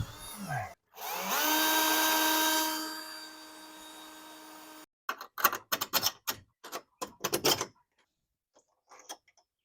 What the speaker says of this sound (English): let's get the drill and drill that out